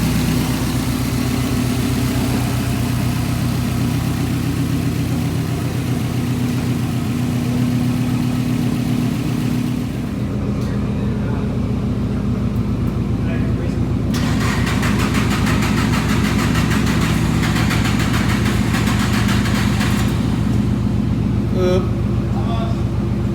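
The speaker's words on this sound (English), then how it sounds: "Cold start's a bitch." A car engine cold-starting in a performance tuning shop, then settling into a loud, steady idle that drones on throughout, slightly rough at first.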